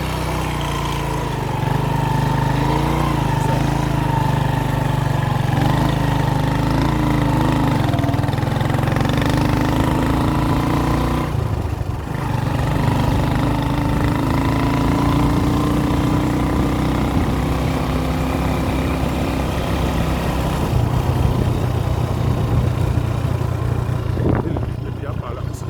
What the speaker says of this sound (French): Donc là je vais prendre la moto pour que ça aille plus vite.